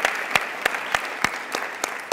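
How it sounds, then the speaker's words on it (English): Sharp, evenly spaced hand claps ring out from a small audience at a live talk event, about seven claps in two seconds, fairly close and without voices. "Give her a round of applause"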